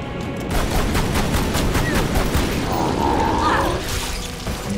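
Rapid gunfire in the Tomb Raider Anniversary video game, a loud dense burst of repeated shots with booming impacts throughout, no one speaking.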